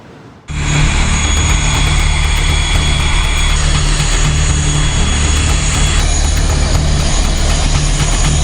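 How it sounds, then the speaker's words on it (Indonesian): Engines of an Indonesian Air Force Hercules military transport plane on an evacuation flight for flood and landslide victims in Aceh roar in suddenly and hold a loud, steady, close drone. "Dengan menggunakan pesawat Hercules milik TNI Angkatan Udara"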